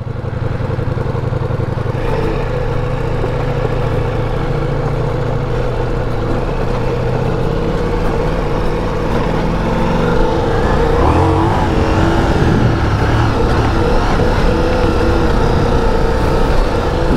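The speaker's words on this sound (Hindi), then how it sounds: "चलिए अब थोड़ा सा ऑफ रोड चलते हैं और मैं मोड चेंज करता हूँ एंड्यूरो पे" Ducati Multistrada V4S, 1158cc, ridden off-road in enduro mode: a continuous loud engine drone with rising revs and clatter near the end, close up and steady throughout.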